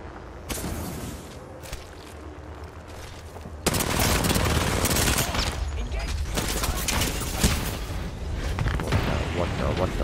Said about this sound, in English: Another charge rifle player, bro.